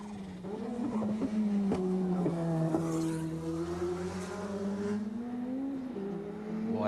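A race car on the Mount Panorama circuit at Bathurst in 1988 runs hard down toward Forest Elbow, its engine a loud, steady, rising drone with brief gear-change breaks, captured close from onboard.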